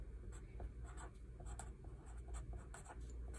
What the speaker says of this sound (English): And then for my fifth reason, I'm going to write,